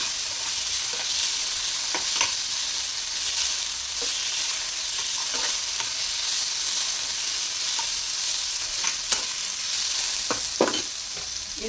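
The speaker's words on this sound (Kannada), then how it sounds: "ಲೈಟಾಗಿ ಫ್ರೈ ಆಗಬೇಕು. ಒಂಥರ ಹಸಿ ವಾಸನೆ ಎಲ್ಲ ಹೋಗಬೇಕು." Ingredients for veg pulao fry lightly in a pan under a soft, steady sizzle, with occasional scraping stirs and small clicks of a spoon scattered through, fairly close and without talk.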